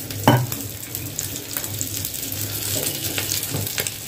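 Onion frying in oil in a pan, a steady soft sizzle with a brief stir or clatter near the start and faint scraping through the rest.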